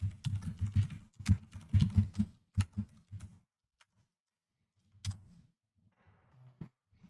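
Typing code on a computer keyboard, quick bursts of close clicking keystrokes with short pauses, then a few scattered taps after a gap.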